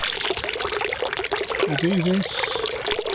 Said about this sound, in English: You put water on his head, like that.